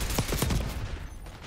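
Video game gunfire, a burst of rapid, close shots cracking in a tight cluster over a dense noisy backdrop, thinning out toward the end.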